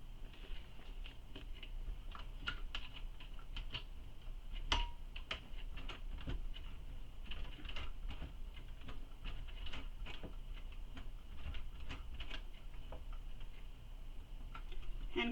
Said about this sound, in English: Hand cranking is better than trying to sew through and potentially causing damage to your machine.